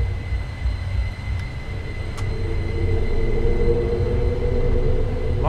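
A small electric train climbs a steep mountain grade in Train Sim World 4, with a steady loud low rumble and a motor whine that swell slightly and hold, plus a couple of faint clicks.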